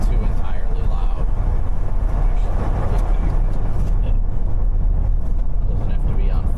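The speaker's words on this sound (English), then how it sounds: "Hopefully the noise from the defrost isn't too entirely loud." A steady, loud rush of air from a car's defroster fan fills the cabin without pause, with a low engine and road hum beneath it, on a blizzard day.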